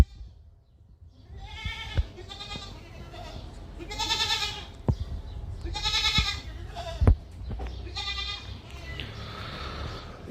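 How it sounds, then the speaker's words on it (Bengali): A Barbari cross goat kid, a Patnai and Barbari mix born on a farm, bleats repeatedly in short wavering cries at a steady pace, fairly close, over a low background of farm noise. "আর এই বাচ্চাটা হচ্ছে আমার খামারে জন্ম নেওয়া বারবারি ক্রস পাঠি বাচ্চা"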